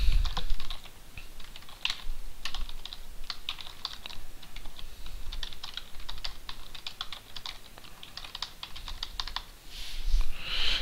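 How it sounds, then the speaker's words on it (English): Steady typing on a computer keyboard, a continuous run of quick, light key clicks at even close range with occasional louder strokes, alone with no voices. "I could just type it just like that"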